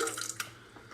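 Brief splash of water poured from a bowl into an empty tomato can while making marinara sauce, a short trickle heard close and faint.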